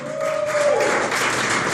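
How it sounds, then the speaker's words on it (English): A small comedy club audience of fewer than twenty people applauds steadily and fairly loudly, with a brief whistle-like tone near the start before the clapping settles into a dense, even patter. "Give a round of applause for Angela Vecchio and Earl Elliott and Mark Nussbaum. Keep it going, please."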